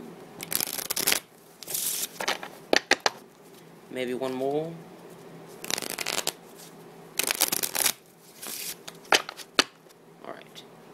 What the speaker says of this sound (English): So I'm gonna take the deck of cards and shuffle.